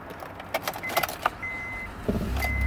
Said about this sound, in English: When you start this, the exhaust makes a little thud sound.